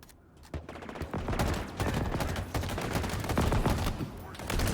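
Rapid bursts of video game gunfire with heavy recoil in Halo Infinite, dense overlapping shots crackling continuously and loud, with a voice speaking briefly over the firing.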